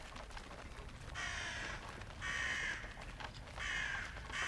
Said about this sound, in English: they've got pet birds that give away your position.